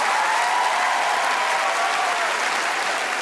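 An audience at a televised talent show gives loud, sustained applause for young violin performers, a dense wash of clapping with a few cheers mixed in.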